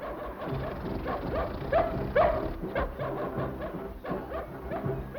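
A puppy barks and whimpers in an older family adventure film, giving a few high yips and whines over a busy background of noise and activity.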